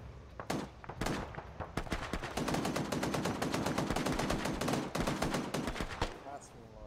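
.50 cal machine gun fire in a video game: long, rapid bursts of heavy, booming shots, steady and relentless at close range, with a few separate shots before the main burst and faint voices underneath.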